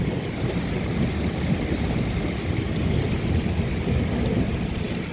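Heavy rain pours steadily in Riyadh, a dense, continuous roar of downpour with low rumbling underneath, loud and unbroken throughout with no voices.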